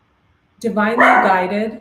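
A dog barks in a sudden burst outside on a windy day, a loud, near, harmonic yelp that lasts about a second under a woman's spoken words.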